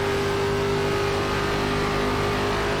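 A race car in an ARCA stock car racing video game at Homestead, engine droning loud and continuous with a steady high whine throughout.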